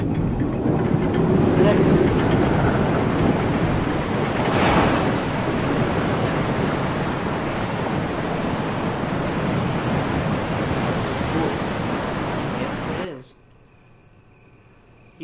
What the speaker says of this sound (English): You can hear the sound of a waterfall in the distance.